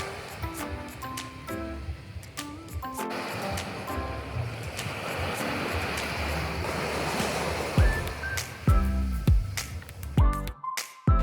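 Ocean waves washing onto a Jamaican resort beach, a continuous close surf roar with wind buffeting the microphone and a few sharp handling bumps near the end.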